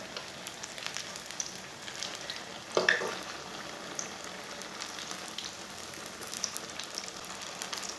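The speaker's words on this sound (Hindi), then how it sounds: "अब इसे 2 मिनट तक फ्राई कर लेंगे।" Potato donuts fry in a pan with a continuous fine crackle like light rain, and a brief louder burst of spattering near the middle.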